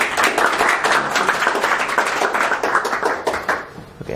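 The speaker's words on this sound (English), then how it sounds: "So if we give a round of applause." Audience applause at a research symposium as a presenter takes the stage, a steady wash of many hands clapping close by that holds evenly for about four seconds and eases slightly at the end.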